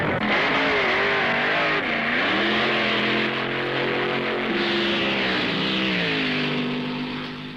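A 1960s drag race launch between an overhead-cam Ford Mustang and a blown Hemi Chrysler, two loud engines roaring and shifting pitch together as they accelerate hard, holding strong before fading slightly at the end.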